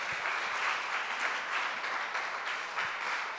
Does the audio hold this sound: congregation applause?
yes